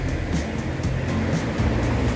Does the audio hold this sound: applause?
no